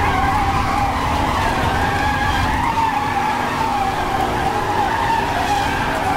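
Drifting car in Need for Speed Hot Pursuit sliding around a looping curve: continuous tire skid and squeal over a loud, revving racing engine, sustained without a break.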